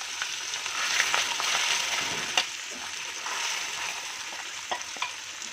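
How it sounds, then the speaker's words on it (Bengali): Marinated rohu fish with other ingredients sizzling in hot mustard oil in a wok, a steady close frying hiss with occasional sharper crackles and a few light utensil clicks, no talking. "তেল ভালো করে গরম করে ম্যারিনেট করা রুই মাছ আর সমস্ত উপকরণ আস্তে আস্তে কড়াইতে ঢেলে দেব"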